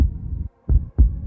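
A pounding heartbeat sound effect gives deep, thudding low beats in a quick, uneven rhythm with short silent gaps between them, heard alone and close.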